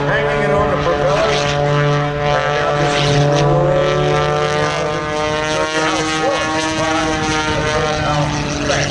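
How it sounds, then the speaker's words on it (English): An aerobatic propeller airplane drones loudly and steadily nearby at an air show, its engine pitch easing slightly lower as it slows. "He slows the airplane down a little bit more, hanging it on the propeller."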